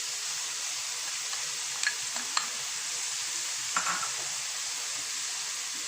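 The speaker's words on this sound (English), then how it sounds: "Now I'm going to put the leeks." Leeks drop into a hot pan of tempered oil and sizzle steadily, with a few sharp clicks and scrapes of a spoon stirring near the close, and no voices.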